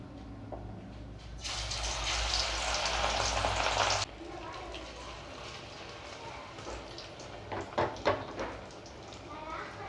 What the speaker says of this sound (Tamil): இப்போ நாம் வந்து இறாவே நம்ம வந்து பொரிச்சு எடுத்துடலாம்.